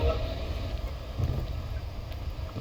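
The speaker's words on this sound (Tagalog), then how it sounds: "Hangin, hangin, Sam" Video game wind: steady rushing wind with low rumbling gusts, fairly loud and continuous, with no speech.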